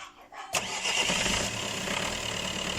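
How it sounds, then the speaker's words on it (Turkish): A car engine cranks and catches after a short quiet lead-in, then settles into a steady, fairly loud idle that runs to the end, during a battery voltage check. "Bir aracı çalıştıralım."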